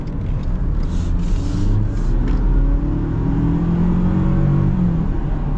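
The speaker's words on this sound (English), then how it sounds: "we'll see how this engine performs" A Ford Ranger mid-size pickup truck accelerates hard, its engine note rising steadily and loudly from inside the cab, with a constant whir and no talking.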